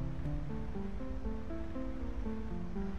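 Water sloshing and rushing in a flooded temple in the video game Skies of Arcadia Legend, a steady wash of ambient water noise under a soft, slowly stepping musical background, no talking.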